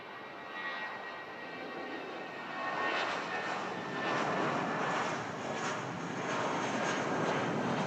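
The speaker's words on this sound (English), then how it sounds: "we've got this BA shuttle service now, just starting the spool up and takeoff roll" A British Airways shuttle jet at Manchester Airport spools up and begins its takeoff roll, a distant, steady engine roar that swells gradually and holds with no voices.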